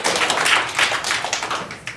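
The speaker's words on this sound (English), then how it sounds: "Everybody clap for Paige." An audience claps for a performer at a stage play, a dense patter of hand claps that holds steady for a couple of seconds.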